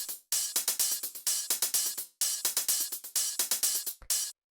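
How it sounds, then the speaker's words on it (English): Synthesized hi-hats from a Bristol techno beat play in fast, bright, crisp repeating patterns, arranged in clusters of rapid ticks separated by short gaps, loud and upfront with no other sounds. "Then after that we have the hi-hats"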